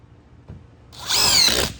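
Power drill driving a fastener for an NB1A2 solar mount into a roof: a brief, loud, high-pitched whirring burst that rises after a short quiet pause, close up.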